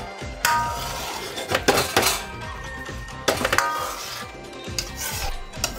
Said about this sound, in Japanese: 豆腐が崩れないようにお玉の裏側を使って優しく混ぜ